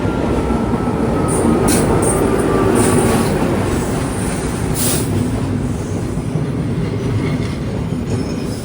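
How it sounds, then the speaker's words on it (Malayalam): A train on the Galle to Colombo coastal line pulls into the station, a loud, continuous rumble of rolling wagons with brief high wheel squeals, close and without talk. "2:36 പോകാനുള്ള ട്രെയിൻ ഇതാ കടന്നു വരികയാണ്."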